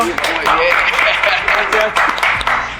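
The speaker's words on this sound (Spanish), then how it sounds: "lo recibimos con un aplauso" An audience applauds to welcome Pablo Ariztimuño, steady close clapping filling the moment with scattered voices mixed in.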